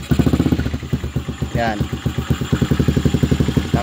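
A motorcycle with no battery and an open frame, in neutral, starts up and settles into a steady, rapid idle with a brief rev partway through, loud and close, while someone talks over it.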